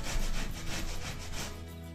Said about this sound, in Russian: Свекольный слой точно так же, как и два предыдущих, натираем на мелкой терке